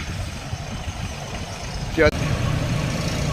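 A small tractor engine idles steadily with a low, continuous rumble while the tractor is unloaded from a lorry, and a brief clank cuts in near the middle.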